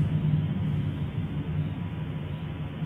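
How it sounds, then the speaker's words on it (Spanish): Deep, continuous low rumble from a strong explosion of the Popocatépetl volcano, heard at a distance during stormy weather, steady and loud with no voices over it. "Fuerte explosión en el Popocatépetl."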